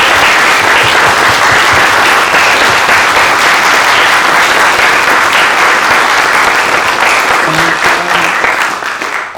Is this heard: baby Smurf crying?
no